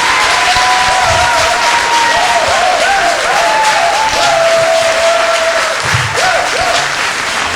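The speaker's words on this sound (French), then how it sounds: "Applaudissements" Sustained, dense applause from a festival audience at a comedy stage show, loud and steady for the whole stretch, with some whistle-like tones riding over the clapping.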